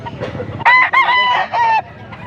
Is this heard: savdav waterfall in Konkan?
no